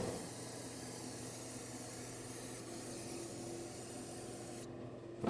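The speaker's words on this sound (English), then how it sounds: "Spray down the parking brake with some brake parts cleaner to get rid of all the dust" A steady aerosol spray of brake parts cleaner hisses continuously for several seconds onto the parking brake and wheel hub of a 2011-2016 Ford F-350, then cuts off abruptly near the end.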